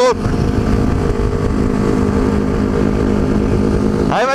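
Motorcycles accelerating hard uphill, a group including a Honda CBR 500R, Kawasaki Ninja 400, Yamaha R3 and Kawasaki Z400. A loud, close, continuous engine drone holds steady throughout, with pitch shifts at the start and end.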